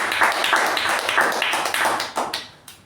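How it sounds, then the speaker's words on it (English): A Toastmasters meeting audience applauds, a close, lively round of clapping that thins out into a few scattered claps and then fades. "giving a special round of applause"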